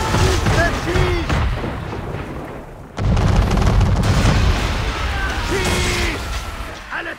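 Warship cannons fire during a naval battle in the video game Assassin's Creed 3, heavy booming blasts rolling out under shouted crew dialogue, with one sharp loud impact midway.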